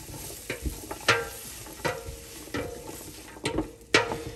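Onions sauté in a pot for homemade chicken soup, a low sizzle beneath repeated scraping strokes of a spoon or spatula stirring them, with a few sharper knocks.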